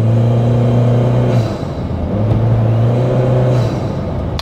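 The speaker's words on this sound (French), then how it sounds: "La sonorité avec la ligne d'échappement et l'entrée d'air de performance" The Mitsubishi Pajero Mini's little engine, breathing through a performance exhaust and intake, revs hard and close. It drops briefly mid-way as if shifting, then climbs again with a throaty hum and no voices.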